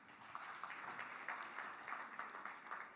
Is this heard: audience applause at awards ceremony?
yes